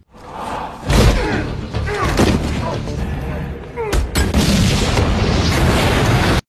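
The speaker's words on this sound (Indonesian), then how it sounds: "Ethan melepaskan satu granat" A grenade goes off in a film scene, heard as heavy booming thuds and a sharp blast among dense, loud action-movie sound and brief voices.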